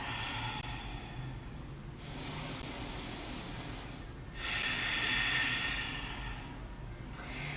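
Slow, audible exhales during a restorative yoga session: long, soft, breathy hisses that swell and fade in a few waves, close to the microphone with no talking.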